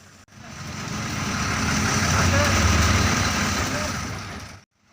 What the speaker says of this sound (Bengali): অনেকের কাছে ইঞ্জিন সাউন্ডটা খুব একটি সুন্দর নাও লাগতে পারে